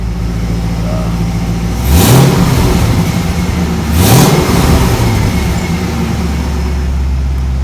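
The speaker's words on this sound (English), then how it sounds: "a running clip of the Corvette" A Corvette's swapped engine idling with a deep steady rumble, then revved twice in quick rising surges that fall back to idle, loud and close, with no talking.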